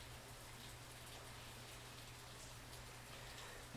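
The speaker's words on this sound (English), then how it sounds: "it just so happens to be at a time when it's raining outside" Steady, even rainfall outside an open window hisses continuously, a dense wash of drops with a low hum underneath, unbroken throughout.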